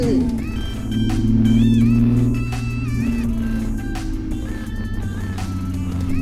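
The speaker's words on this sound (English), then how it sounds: "She idling smooth." Infiniti G37/G35 engine idling after a Seafoam treatment, a steady low hum close by with brief faint voices over it.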